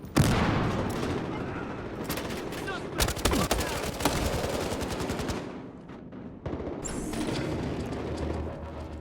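Gunfire in the video game Battlefield Hardline during a Precinct 7 robbery mission, rapid machine-gun bursts and heavy booming shots, loud and close, interrupted by shouted voices and brief pauses.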